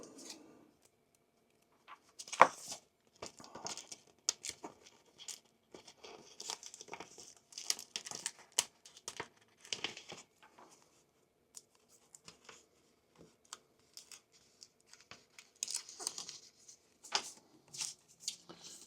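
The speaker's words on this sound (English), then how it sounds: "Let's see if I can peel it out here." A paper cutout from a Deleter manga tool pack is peeled free by hand, giving sparse crinkles, small tearing rustles and light clicks in short bursts separated by pauses, close and fairly quiet.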